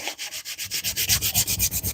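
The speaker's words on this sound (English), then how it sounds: "I come back and I do a little bit of hand sanding." Hand sanding a wooden skateboard deck by hand, producing steady rhythmic rasping strokes, about eight per second, close and clear with no talk.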